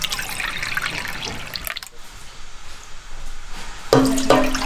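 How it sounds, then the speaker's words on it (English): Water running from a tap to fill cups, a continuous splashing gush with brief pauses and a brighter surge of flow near the end. "Okay, Zelda, can you please fill both of these up with water?"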